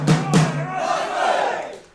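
Waltham Abbey football fans cheering and shouting at a non-league match against Hertford, a couple of sharp bursts of loud shouts followed by a rising collective roar that fades out.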